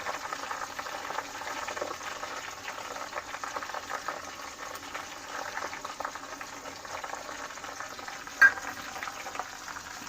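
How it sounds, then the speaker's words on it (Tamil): Garlic and neem leaves frying in a pan give a steady, bubbling crackle at moderate level throughout, with one sharp click near the end. "இது கொஞ்சம் ஃப்ரை ஆகட்டும்."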